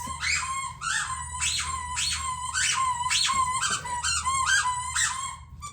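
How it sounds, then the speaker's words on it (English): A dog's squeaky toy from a monthly subscription box squeaks repeatedly in quick, uneven bursts of high rubbery squeals, with a low steady hum underneath and no one talking. "I think pretty much all of them have squeakers in them"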